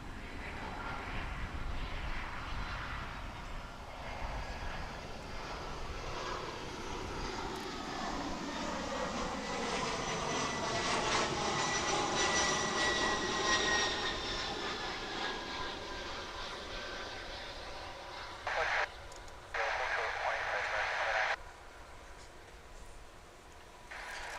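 An American Airlines PSA Heritage livery jet passes near DFW International Airport, its engine whine swelling to a peak then fading, with a few brief bursts of other noise near the end.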